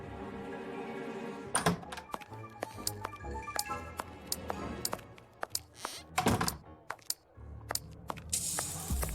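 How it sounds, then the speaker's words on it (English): Sharp mechanical clacks from a typewriter in a Sherlock Holmes adventure game, struck irregularly with a few heavier thunks, close and fairly loud with no talk over them. "Typewriter."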